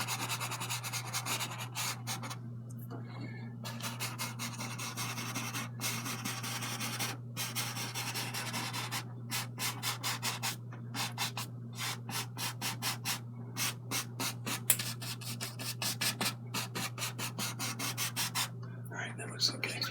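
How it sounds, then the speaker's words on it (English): A dry brush scrubs oil paint back and forth across a canvas, making close, steady rasping strokes with short pauses between bursts and no talk. "I'm going to get a cleaner brush or a dry brush like this one. Now kind of scrub this around,"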